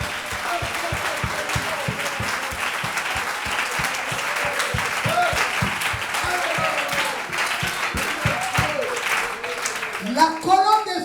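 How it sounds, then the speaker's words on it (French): Church congregation in Abidjan clapping in rhythm, a dense, even beat of hands under a steady crowd murmur, sustained for several seconds before tapering near the end. "Acclamons le Seigneur."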